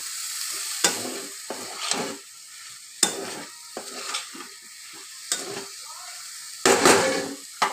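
Potatoes and peas with spices are stirred in a hot pan: a soft sizzle runs under repeated scraping clatters of a spoon against the metal, close and uneven.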